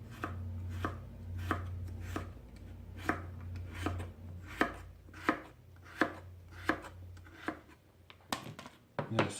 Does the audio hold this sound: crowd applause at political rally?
no